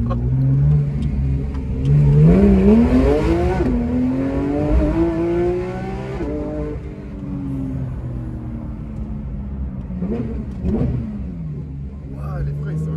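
A Porsche 991.2 GT3 RS engine revs hard and climbs in pitch, then drops sharply at a gear shift and pulls up again, loud and close inside the car, before easing off to a steady lower drone.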